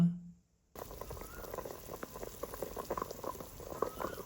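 Pork belly simmers in a pot of water, a brief clunk and a moment of quiet giving way to a continuous low bubbling with soft irregular blips.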